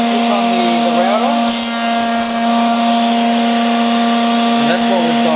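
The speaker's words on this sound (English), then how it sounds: "So I just stick on the router" A router on a router table test-cutting scrap MDF, its motor holding a loud, steady high whine throughout with slight shifts in load as the bit cuts.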